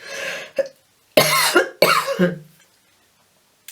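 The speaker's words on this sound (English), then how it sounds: "I can't stop coughing." Several harsh, loud coughs in quick bursts, a short one first then two long rasping fits, followed by silence.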